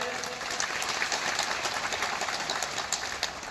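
A crowd at a Shiv Maha Puran katha claps together in a dense, steady burst of applause that holds evenly for a few seconds, with scattered sharper hand claps standing out.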